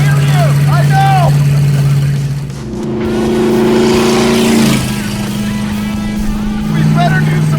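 A Suzuki Samurai with a junkyard big-block engine roars loudly from inside the cabin, a steady heavy drone that dips and swells with the throttle, while people talk over it.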